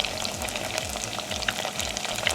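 Cheese-stuffed onion rings deep frying in a pot of hot oil over medium heat, giving a steady, dense crackling sizzle close by with no voices.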